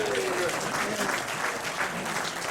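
An audience applauds after a rifle drill demonstration with an SMLE .303, a dense wash of clapping heard fairly evenly, with voices mixed in.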